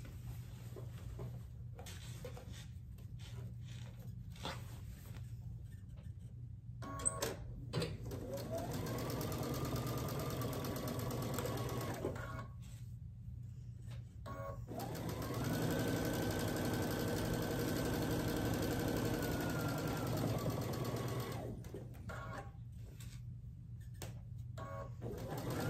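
A sewing machine runs down a quilted table runner seam in two long steady stretches, humming with a rising whir, separated by short pauses and quieter handling noise, close by and moderately loud.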